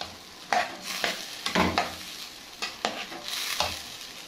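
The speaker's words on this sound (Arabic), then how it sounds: "نقلب الملح" Rice frying with salt in a pot is stirred with a utensil, giving a series of scraping, rustling strokes at irregular intervals over a soft sizzle, close up.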